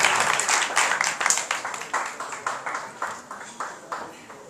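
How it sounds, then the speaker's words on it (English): A fundraiser crowd applauds an event organiser, loud rhythmic clapping with sharp, regular beats that gradually softens and tapers off. "I'd love to give a round of applause to right now"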